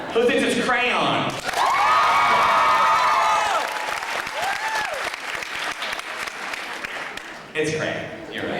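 A panel audience claps and cheers loudly, with bursts of whooping and shouting voices over a dense wash of applause that thins slightly toward the end before swelling again.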